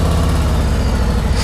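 A 2019 Harley-Davidson Road Glide Special with the 114 engine runs steadily and close by, its low, heavy rumble holding even throughout, with no talk.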